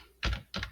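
Two quick bursts of keystrokes on a computer keyboard as a book title is typed into a Word text box. The clacking is close and crisp, with no talking.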